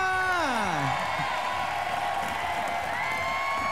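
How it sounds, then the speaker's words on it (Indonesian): A television talent-show audience cheers and applauses a contestant: a drawn-out falling whoop opens, then a dense, steady wash of crowd cheering and clapping fills the hall at moderate loudness. "Tepuk tangan yang meriah untuk Soima."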